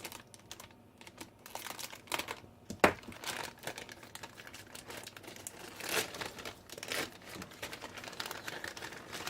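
Plastic parts bag from a Revell 1:25 Jeep Wrangler Rubicon model kit being cut open and handled, with close, busy crinkling and rustling throughout and a couple of sharper snips or crackles.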